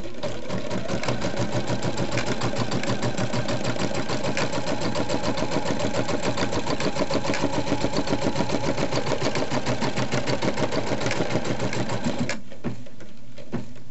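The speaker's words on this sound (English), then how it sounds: "The first stitch out in applique is a placement stitch." A sewing machine runs steadily for about twelve seconds, stitching an applique placement stitch with a fast, even mechanical chatter, close and loud, then stops abruptly.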